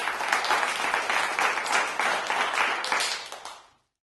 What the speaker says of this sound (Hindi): जोरदार तालियां नहीं रुकनी चाहिए, तालियां बजती रहनी चाहिए